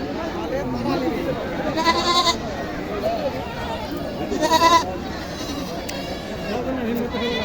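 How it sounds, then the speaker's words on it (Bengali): Goats bleat at a traditional goat market in Naogaon, short nasal cries rising twice above a loud, continuous hum of crowd chatter and voices. "আরও কিছু ছাগল দেখানোর চেষ্টা করি"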